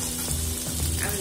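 Green chillies and curry leaves fry in hot oil in a pan, giving a steady, close sizzle with faint crackles throughout.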